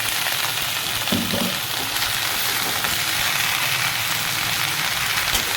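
Chopped vegetables are frying in hot fried spices in a home kitchen pan, giving a steady, dense sizzle throughout, close and even, with a few faint stirring scrapes.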